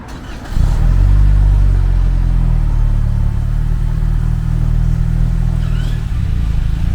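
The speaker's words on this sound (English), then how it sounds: "Start the car." A 2018-2024 Toyota Camry engine cranks and catches after a short quiet moment, then settles into a loud, steady low idle close by with no talking.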